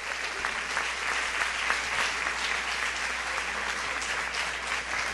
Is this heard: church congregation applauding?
yes